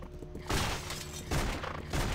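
Rapid bursts of gunfire from the action role-playing video game Torchlight II, roughly five shots per second, arriving in dense loud volleys with short gaps between them.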